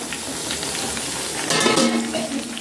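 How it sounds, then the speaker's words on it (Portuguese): Meat sizzling and frying in a pan on a wood-fired stove on a farm, a steady hiss that grows louder and brighter partway through, with a faint tonal squeal near the end. "Ela tá dando uma fervida primeiro, depois começa a fritar."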